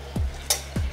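Brown sugar sauce for Thai sticky wings being stirred in a pan, with two scraping strokes and a faint sizzle between them, close and fairly quiet with no talk.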